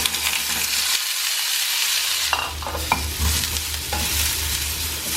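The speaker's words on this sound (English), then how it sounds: "Now we'll just put them into hot oil." Pre-cooked chicken seekh kebab pieces, cut two inches long, fry in hot oil with a steady close sizzle, and utensil stirring and scraping breaks through in the second half.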